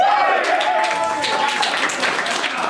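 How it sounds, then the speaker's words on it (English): A convention panel audience at Anime North 2013 claps, broadband patter filling the room steadily while a voice carries over the top. "Give yourselves a round of applause."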